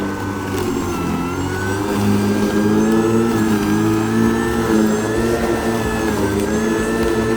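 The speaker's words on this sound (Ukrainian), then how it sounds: "Тобто додає оберти і траву косить високу, бачите, польову." A ProCraft PLM 22 cordless lawn mower cuts tall field grass, its motor droning steadily with a rising, wavering whine as it speeds up under load, loud and close without any talking.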